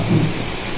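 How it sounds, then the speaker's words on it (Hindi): Heavy rain hisses steadily while a low rumble of thunder swells briefly at the start, loud and close, with no voices. "वर्षा होना खूब शुरू है ना।"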